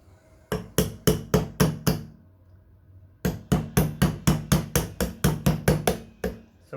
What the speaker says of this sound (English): I'm gonna use the pin to hammer it down slowly.